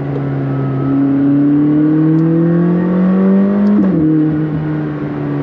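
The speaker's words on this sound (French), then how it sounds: "Ça chauffe un peu l'échappement, ça donne un bon note." A McLaren 600LT revs with its exhaust note climbing steadily for several seconds, then drops sharply as the throttle lifts and settles into a lower drone; loud and close, with no talk.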